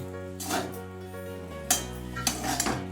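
Chow mein and egg bhujia stirred in a pan, with several clattering scrapes and knocks of a utensil against the metal, set over quieter background hum.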